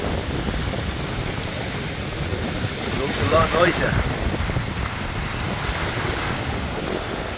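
Murky sea waves wash in at high tide on a beach near Pattaya, Thailand, a steady surf hiss with wind buffeting the microphone and a person talking briefly over it.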